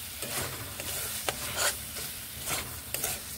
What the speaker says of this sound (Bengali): মশলাগুলোর সঙ্গে ছানাগুলোকেও বেশ ভালোভাবে এইভাবে কষিয়ে নেব।